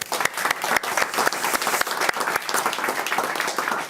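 An awards-night crowd at the A-Leagues ceremony bursts into sustained applause for the Young Footballer of the Year, dense, loud clapping filling the whole stretch with a steady, busy texture.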